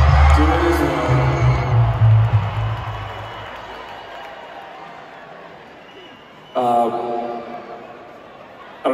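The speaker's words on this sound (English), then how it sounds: "She's listening to the beautiful people of San Fran cheer for Daddy." A concert crowd at Chase Center in San Francisco cheers during a show, loud at first and then fading to a distant murmur, with someone talking close over it and a brief swell near the end.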